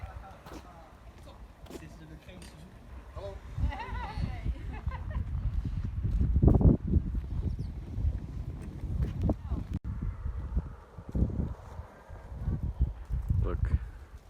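A horse's hooves clip-clop at a walking pace in Zelda: Breath of the Wild, with wind noise behind, while someone talks over the game sounds.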